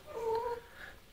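A mother cat gives a short, soft whimpering whine indoors, a brief faint nasal sound with a quieter trailing note after it.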